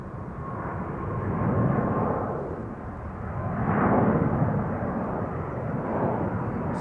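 A jet airliner taking off at Amsterdam Schiphol Airport, its broad engine roar swelling and fading in two slow surges as it passes at moderate distance, steady and unbroken, with no voices.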